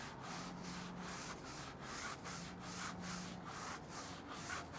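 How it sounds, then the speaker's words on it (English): Stiff blue bristle brush scrubbing a car wheel and low-profile tire coated with cleaner, removing old dressing and grime; a continuous rhythmic scrubbing rasp in quick even strokes, close up with no talking. "So first we'll take our blue stiffy brush and we'll just start scrubbing away the Total Extract as well as any of the old dressings and grime"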